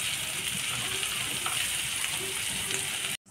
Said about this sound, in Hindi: अच्छा से चलाते हुए इसको अच्छा से भून लूँगी मसाला को